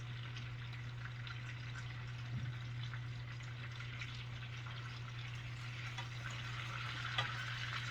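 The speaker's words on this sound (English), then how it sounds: "There, you can just hear the sizzling." Food sizzles steadily in a T-fal frying pan, a soft continuous crackling hiss with a low hum beneath, heard alone and fairly quiet.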